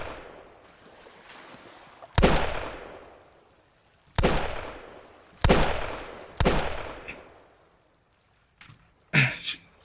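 Scrap pistol gunshots in the survival game Sunkenland: five sharp, loud single shots spaced irregularly, each with a short decaying tail, over a faint ambient water background.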